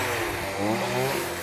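A gas-powered drill engine sputters and catches, a loud close buzzing motor note that rises and wavers in pitch over a second and a half.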